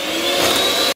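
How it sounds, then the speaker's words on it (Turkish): An electric hand mixer whirs steadily while blending muffin batter with added vegetable oil, a loud continuous motor drone that cuts off abruptly at the end. "Sonrasında yine mikser yardımıyla güzelce karışımımızı karıştırıyoruz."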